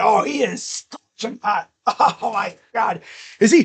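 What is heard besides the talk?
None of the usual background noises is heard.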